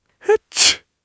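A single close, sharp human sneeze: a quick voiced intake followed by a loud, breathy burst, then silence.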